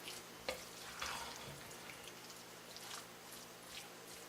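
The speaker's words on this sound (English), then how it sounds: "now we're going to mix this around until everything is blended" A hot meat and cheese mixture for Santa Fe tamale pie is stirred in a pan, giving a steady close scraping and wet squishing over a low sizzle, with a sharper knock near the start.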